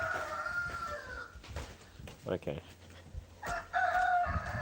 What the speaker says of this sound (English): So somewhere here I have my what's my call it? My chicken. My turkeys.